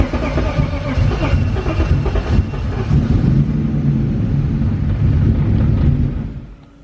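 BMW E36 with an M52B25 engine that has oil in the bores, cranking and catching into a rough, loud rumbling idle that runs steadily before cutting off at the end.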